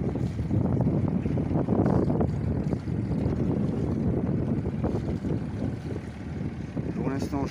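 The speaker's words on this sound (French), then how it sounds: "Pour l'instant je sors au moteur avec la GV." A sailboat heads out of a ria under engine with its mainsail up, into a headwind: a steady low engine rumble with wind buffeting the microphone and water wash, continuous and fairly close.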